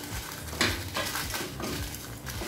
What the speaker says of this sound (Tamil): கொஞ்சம் வெந்தயம் 7 காஞ்ச மிளகாய் இதெல்லாம் நல்லா வறுத்துக்கலாங்க